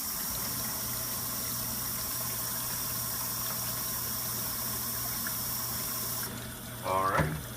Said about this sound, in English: then we fill the bucket up again to the line